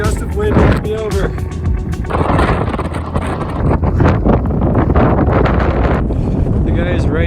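Strong wind gusts roar across a snowy mountainside on Mount Rainier, buffeting the microphone loudly and continuously while a person speaks over the noise.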